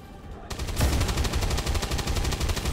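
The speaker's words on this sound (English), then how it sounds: "Just fire your pistol." Gunfire crackles in the turn-based strategy game XCOM 2, a loud burst starting abruptly and running as a rapid stream of sharp reports for over two seconds over a low rumble.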